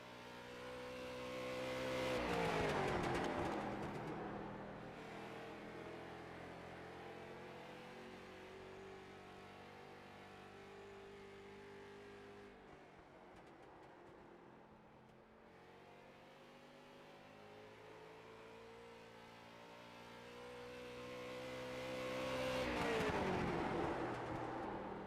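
Race cars lapping a raceway during NSRL qualifying at Nashville, engines swelling as cars approach and pass, a steady droning roar in between, heard from trackside at moderate distance.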